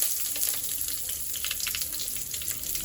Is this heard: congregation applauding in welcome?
no